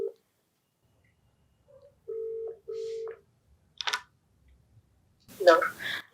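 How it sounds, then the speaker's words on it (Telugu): A phone call is placed: a few tone beeps and a ringback pattern sound sharply against silence, followed by a brief click and a short burst of a voice answering. "నెంబర్ ఉంది, కాల్ చేసేస్తానండి"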